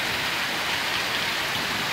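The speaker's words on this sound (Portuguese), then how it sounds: "43 minutos de chuva e não branda um segundo sequer" Heavy rain pours down in a rural storm, a dense, unbroken roar of falling water that stays loud and even throughout with no other sounds.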